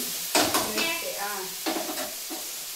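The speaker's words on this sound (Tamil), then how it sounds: "இப்போ வந்து தக்காளி வந்து நல்லா வதங்கிடுச்சு பார்த்துக்கோங்க." Tomatoes sauté in a pan, a bright sizzle with two distinct stirring strokes that scrape and spatter close by, then settle back to a steady frying hiss.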